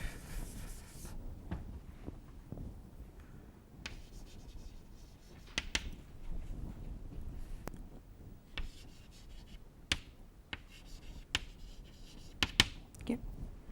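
A lecturer writes on a board, leaving faint scratchy strokes and sharp taps of chalk in irregular short bursts, fairly quiet against a low room background.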